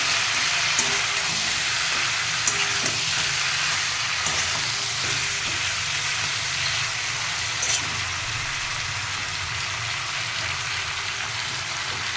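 Spices dropped into a hot frying pan for a home-cooked Bengali lunch, giving a steady, even broadband sizzle that holds for the whole stretch, with a few faint clicks and taps of a utensil and no talking.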